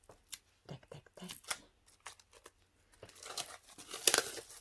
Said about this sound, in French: je vais déjà déballer les cartes qui sont sous blister